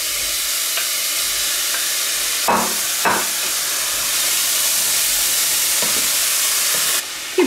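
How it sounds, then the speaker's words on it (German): Carrots and orange go into a hot soup pot whose bottom is already starting to scorch, producing a loud, steady sizzle with a few sharp bursts of hissing as the pieces hit the pan. "Dann sieben wir jetzt unsere Möhren und Orangen rein."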